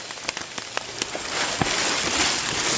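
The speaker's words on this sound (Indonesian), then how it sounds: "Beberapa menit kemudian hujan pun mulai turun." Rain patters steadily along a mountain trail on Gunung Pangrango, a close hiss with sharp individual drops tapping on nearby surfaces.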